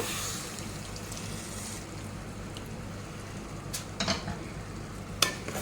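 Tamarind juice is stirred into a cooking dish, giving a soft hiss and gentle sloshing, with a few brief scrapes of a spoon against the pot near the end.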